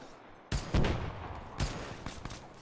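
Machine gun fire in the military shooter ArmA, sharp bursts cracking out in a few separate volleys with short gaps between them, fairly near and loud against a quiet background, no voices present.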